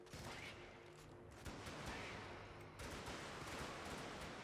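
Sustained automatic weapon fire from Helldivers, loud and dense across the whole stretch with brief dips between bursts, mixed with game explosions and effects and no talking.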